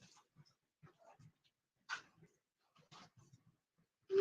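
A dog makes scattered soft whimpers and huffs near the microphone, with short breathy yips between quiet pauses, ending in a louder sharp bark-like whine.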